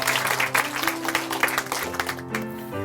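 A church congregation applauds during a testimony programme, a brief burst of clapping that fades as sustained musical tones rise underneath.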